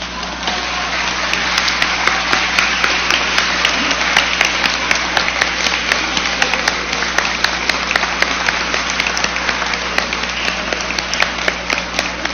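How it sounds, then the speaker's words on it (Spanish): Sustained applause from a standing audience at a political forum on women's participation, dense and steady for about twelve seconds, with occasional faint voices underneath. "un aplauso para todos ustedes"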